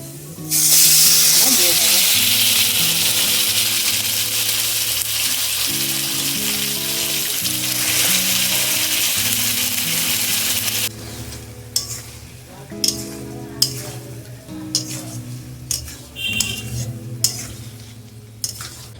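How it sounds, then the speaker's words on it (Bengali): Onion with nigella seeds fries in a pan, a loud continuous sizzle under steady stirring that later thins out into sharp utensil scrapes and clinks against the pan. "পেঁয়াজের মধ্যে কালো জিরে একটু নাড়াচাড়া করে নেব"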